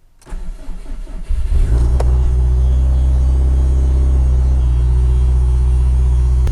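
A car engine cranks and starts after a few seconds of faint rustling, then settles into a loud, steady, close rumble as the car begins to move off.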